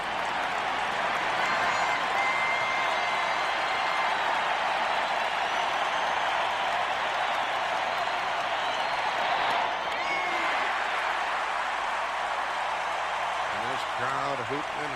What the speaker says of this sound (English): Crowd hooting and hollering on each pitch.